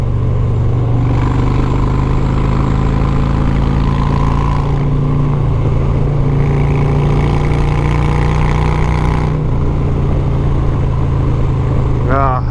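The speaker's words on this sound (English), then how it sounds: "This bike just destroys these curves." A Harley-Davidson Road Glide motorcycle engine drones steadily and loudly while being ridden through curves on a back road, with heavy wind rush throughout and brief shifts in the engine note.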